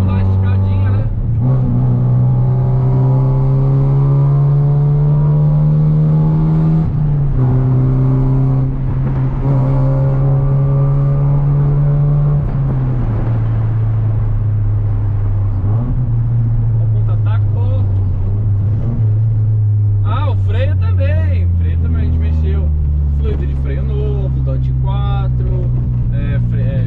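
A 1996 Corsa GSI 1.6 16V, warmed up, accelerates hard through several gears, its engine climbing in pitch, dropping at each shift, then revving again; loud and close, heard from inside the car.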